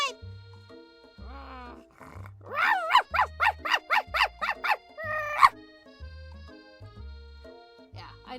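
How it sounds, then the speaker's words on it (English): Sprinkles the dog barks frantically at a squirrel, a quick rhythmic burst of about eight sharp, loud barks between low rumbling tones and a few stray yelps, with no voices. "He begins barking uncontrollably at the squirrel outside."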